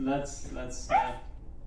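A person imitates a dog's bark, giving a few short, close, voiced yelps in a quick run, with the middle one the loudest.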